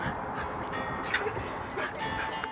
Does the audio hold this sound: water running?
no